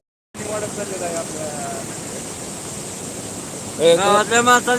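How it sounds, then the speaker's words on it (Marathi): Rising floodwater in a village stream after heavy rain rushes past in a steady, broad roar, with voices speaking briefly at the start and again near the end. "समोरून पाण्याचा प्रवाह वाढतच चाललेला आहे"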